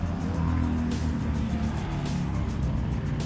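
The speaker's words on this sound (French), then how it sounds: "ça arrive encore sur le parking visiteur avec une Ferrari 308 GT4 là," A Ferrari 308 GT4, a Bertone-designed sports car, rolls into a visitors' car park at a classic car event, its engine a steady, fairly close rumble over outdoor background noise.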